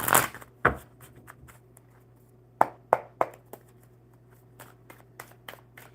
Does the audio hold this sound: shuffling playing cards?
yes